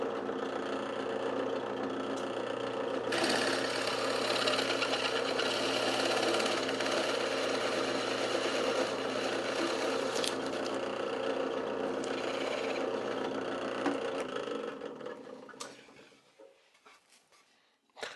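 A power saw cuts a bevel on the end of a small wooden bench skirt, making a steady, loud whirring drone that runs unbroken for about fifteen seconds and then winds down to silence.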